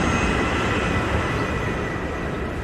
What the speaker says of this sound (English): a plane roars overhead and leaves a clean contrail in its wake